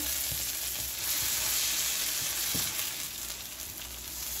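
Onion, chili and garlic paste sizzles steadily in a hot pan over a high flame, with soft scraping and stirring taps from a utensil.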